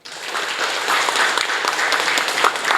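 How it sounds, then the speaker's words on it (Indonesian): A seminar audience bursts into a sustained round of applause, a dense wash of many hands clapping that holds steady and fairly loud for a few seconds, with no one speaking over it. "Tepuk tangan dong."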